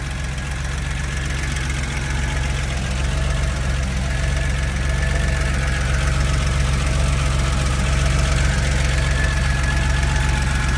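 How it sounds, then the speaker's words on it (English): A car engine idles steadily and loudly up close, a low even rumble with a faint rhythmic knock throughout. "And it idles very well."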